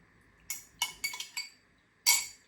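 A spoon stirs chicken hearts through marinade in a bowl, giving a few bright, close clinks against the dish, with a final louder clatter.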